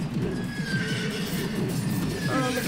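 A horse whinnies in the video game Animal Revolt Battle Simulator, a loud drawn-out neigh over a dense churn of game noise and hoofbeats, rising again near the end.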